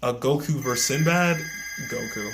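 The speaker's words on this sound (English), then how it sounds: "I'm sorry about the phone in the back" A telephone rings in the background behind someone talking steadily on a home livestream, its tone faint and partly buried under his voice.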